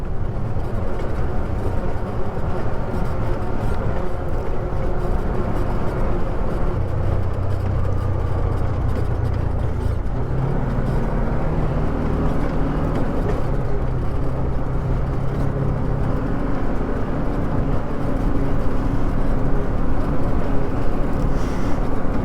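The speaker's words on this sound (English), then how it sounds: "This thing's got some rattles, and I can't figure out what they're from." A 2014 Arctic Cat Wildcat 1000X four-seat side-by-side runs continuously at close range, with a loud, steady drivetrain roar and a dense, shaky rattle throughout, its pitch shifting slightly partway through and no talking.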